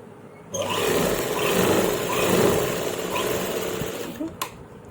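A sewing machine stitches a salwar in one continuous close burst of rapid mechanical whirring, then slows to a stop with a couple of faint clicks.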